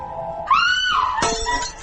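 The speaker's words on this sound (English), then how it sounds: "Oh, the glass. I dropped it." A dropped glass breaks with a bright, sudden crash and tinkling ring that sustains briefly, following a rising high cry, all fairly close and loud.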